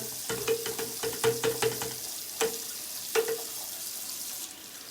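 Water from a running tap splashes in a sink during a nighttime skin care rinse, with several short bursts and drips, close and fairly quiet, no talk.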